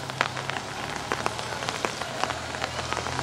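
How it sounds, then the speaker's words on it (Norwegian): Steady September rain in Balestrand, Norway, pattering on a hard surface, with many close, distinct drops tapping over a constant wet hiss and a low hum underneath. "det regner."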